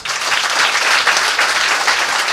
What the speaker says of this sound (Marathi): फक्त एकदा परत जोरात टाळी वाजवा.